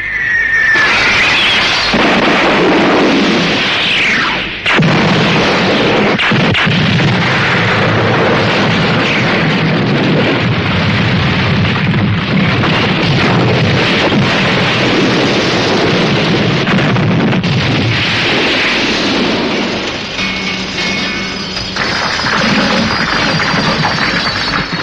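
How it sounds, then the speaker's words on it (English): Missiles launch and explode in a 1982 anime film, a long, loud roaring barrage of rumbling blasts and crackling debris, with sharp cracks around the first few seconds and a whistling streak near the start. "Launch missiles!"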